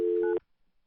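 A single telephone keypad tone sounds for under half a second, a steady clear beep that stops abruptly and leaves near silence.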